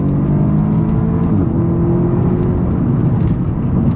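An Audi S3 drives along a potholed road, its engine note a steady, loud mid-range drone with a continuous whirring hum that stays close and unbroken throughout, with no voices present.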